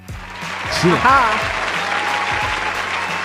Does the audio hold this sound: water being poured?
no